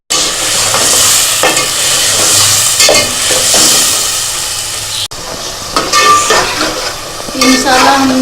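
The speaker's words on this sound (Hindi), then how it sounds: "वो इसमें डाल दें और मसाले की भुनाई करें।" Spice paste fries and sizzles in a pot while a spoon stirs and scrapes through it, a loud, continuous hiss with clattering strokes and a brief pause midway.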